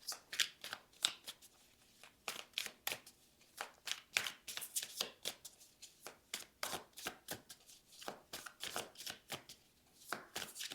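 Tarot cards shuffled for a reading, heard close up as a quick, steady run of crisp papery riffles and slaps repeating throughout, with no voices.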